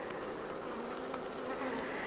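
Honey bees drone steadily at an open hive during an early spring inspection. The dense buzzing is close and continuous from start to finish, with no talk over it.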